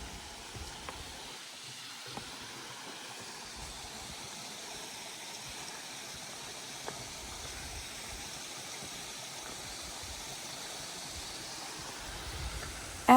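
Small waterfall spilling into a standing pool, a soft, continuous hiss of falling water heard from some distance, low and steady with a few faint clicks.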